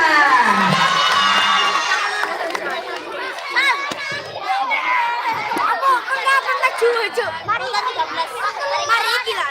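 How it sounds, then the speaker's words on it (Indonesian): Primary school children clap and cheer for a student called up in an Islamic preaching competition, a loud, dense crowd of young voices shouting and clapping, with excited chatter throughout. "Tepuk tangan untuk Najla."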